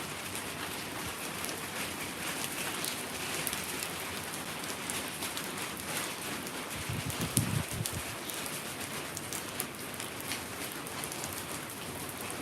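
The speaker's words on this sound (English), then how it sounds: "I'm hoping the rain will let up." Steady early-morning rain falls across the streets and back alleys, a dense, continuous hiss of drops hitting surfaces, with a brief lower rumble partway through.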